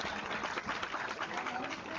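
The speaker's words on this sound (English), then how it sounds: "Can we have a huge round of applause for our" Applause from a conference audience at the opening of an IEEE international conference, a dense steady patter of many hands heard from a distance at low level, with murmuring voices mixed in.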